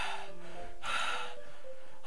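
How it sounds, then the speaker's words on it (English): A sharp, hissing inhale like air sucked through teeth, heard once in the middle of quiet ambient tones in Doki Doki Literature Club. "It sounds like breathing. A sharp inhale, like someone is sucking the air through their teeth."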